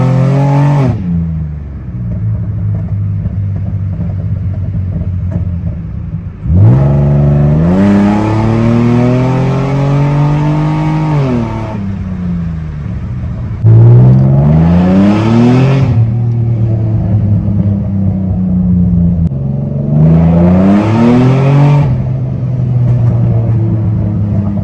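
A Nissan 350Z engine revs hard on a test drive, climbing through the gears in three long surges, each dropping back to a lower drone, loud and close.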